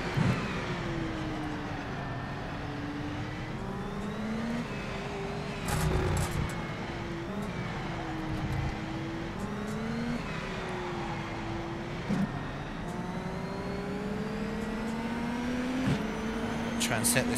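IndyCar race car in the rFactor 2 racing game at the Indy GP, engine note rising and falling steadily as it accelerates through a chicane and down the track, with other cars around and a voice talking over it.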